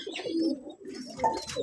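Close, low cooing from Nildumba Kamagar pigeons repeats in soft rolling phrases, with a faint higher chirp near the end and no voices.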